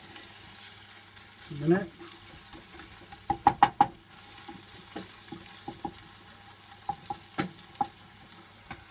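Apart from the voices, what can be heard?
garlic and bay leaves sautéing in a pan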